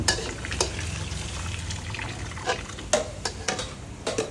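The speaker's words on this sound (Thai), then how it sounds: "แล้วก็ผัดให้มันแห้ง" Rice vermicelli noodles for pad see ew being stir-fried in a pan at a made-to-order food stall, with a constant sizzle and hiss broken by periodic scraping clanks of the spatula, loud and close.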